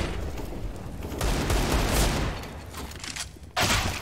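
Dense volleys of gunfire in a competitive match on the Mirage map roar almost without pause, loud and close, with a sharp fresh burst near the end.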